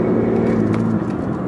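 A 2014 BMW i8 hybrid's combustion engine cuts in under acceleration on a handling circuit, a steady close whirring drone with a low engine hum that holds throughout.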